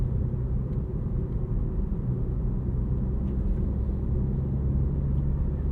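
A 2025 BMW M4 CS with the S58 engine drives along at easy cruise, giving a steady, low rumble that stays in the background with no revving or spikes.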